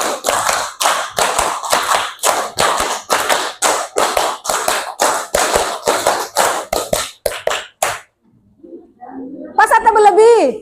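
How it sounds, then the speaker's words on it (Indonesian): Classroom claps counted out by a teacher, a steady run of about fifteen sharp, evenly spaced hand claps, loud and close, then a short pause before a voice speaks. "Tepuk 5 kali."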